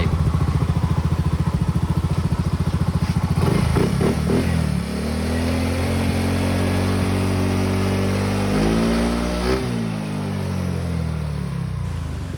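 A stock-engine Yamaha Aerox V1 scooter idles close by with a steady buzzing drone, revs up briefly twice and settles back to a rough, ticking idle throughout.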